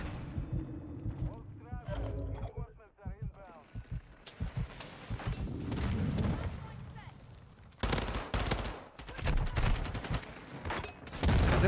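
Rapid automatic gunfire in Modern Warfare 2, loud bursts and sustained fusillades with explosive cracks, dense and close, continuing through most of the stretch with brief lulls between volleys.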